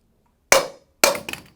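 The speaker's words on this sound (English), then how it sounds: "Going to use a claw hammer. Smack down on the cylinder." A claw hammer strikes a metal chair cylinder twice, sharp ringing impacts about half a second apart, the second followed by a smaller clanking rebound, loud and close in an otherwise quiet space.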